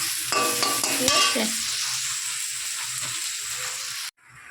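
Potatoes and spices fry in a pan with a loud, close sizzle and stirring scrapes, then cut off abruptly near the end; a voice speaks briefly.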